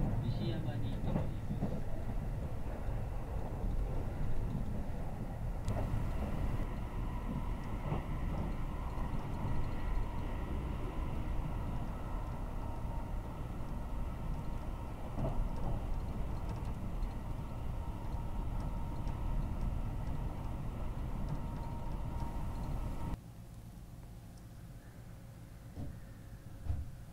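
A Haruka limited express train runs through Shiga toward Kyoto, heard from inside the car as a steady low rumble and rolling hum, with a voice talking over it and the noise dropping quieter near the end.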